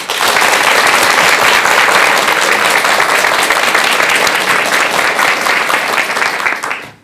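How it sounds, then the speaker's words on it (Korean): A seated audience gives a monk a long, steady round of applause that fills the room evenly from start to finish, then fades out in the final moments. "여러분 큰 박수 부탁드립니다."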